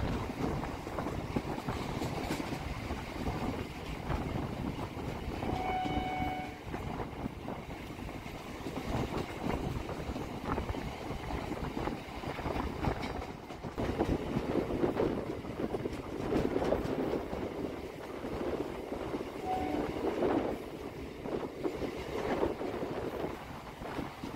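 A Tarakeswar–Goghat local train runs steadily near Arambag, a continuous loud rumble of wheels on rails with faint clatter and wind buffeting throughout, no voices.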